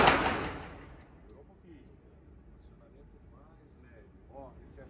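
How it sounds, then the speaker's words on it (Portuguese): A single sharp, loud 9mm Glock pistol shot opens the clip, its blast decaying into a quiet room, followed by faint murmuring voices. "Se assuste com o disparo."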